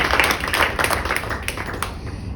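Applause from an audience at a Hindi kavi sammelan poetry event, a dense patter of hand claps that stays steady and fairly loud, then thins slightly near the end.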